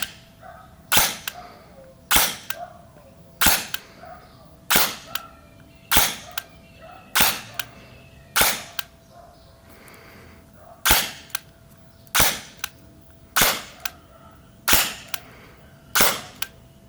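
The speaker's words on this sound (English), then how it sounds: "about 8 out of those 17 shots exploded as they left the barrel" A 3DG Glock 17 Gen 4 V3 gel blaster fires about fourteen sharp, loud gel shots at a steady pace of roughly one per second, with a short pause mid-string.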